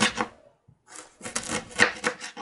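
A knife slices cabbage into thin strips on a board in a village kitchen, several quick scraping cuts in bursts with a brief pause, close and fairly loud.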